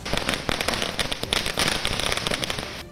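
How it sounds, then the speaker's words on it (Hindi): Firecrackers go off outside a cinema in Pune to celebrate the release of the film Pathaan, a loud, dense run of rapid crackling pops and bangs that continues without a break. "पुणे में भी कुछ लोगों ने एक थिएटर के बाहर पठान की रिलीज की खुशी में आतिशबाजी की"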